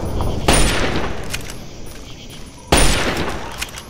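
Two sharp, loud bursts of gunfire in Fallout 3, spaced a couple of seconds apart, each followed by a decaying echoing tail over low ambient background.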